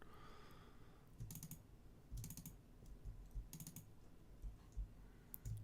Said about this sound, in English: I'm holding shift, control, and command on my keyboard.